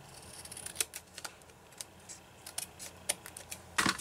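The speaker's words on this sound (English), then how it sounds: "take some scissors and just snip that off a little bit" Small, crisp scissor snips cutting paper click irregularly at close range, faint and scattered, ending in a slightly louder cluster of cuts.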